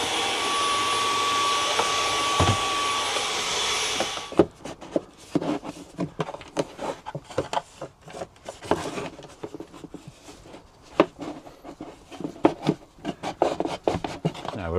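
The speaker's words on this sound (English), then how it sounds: "Quick vacuum in that cupboard and that's finished." A vacuum cleaner runs inside a cupboard during a WiFi unit installation, starting as a steady loud whine for about four seconds, then giving way to uneven scraping, rubbing and knocking as the nozzle works over wooden surfaces.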